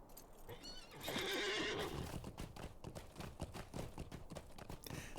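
A horse in the Lord of the Rings Online game whinnies loudly, then its hooves clip-clop in a quick, steady rhythm as it sets off at a trot, the rhythmic steps continuing to the end.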